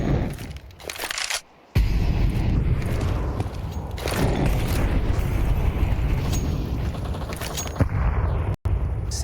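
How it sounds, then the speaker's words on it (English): A smoke grenade and a flashbang go off during a professional Counter-Strike match at a major tournament: loud, dense bursts and pops over constant gunfire and heavy in-game noise, with a brief dropout partway through. "Here's the break of the smoke and the flashbang."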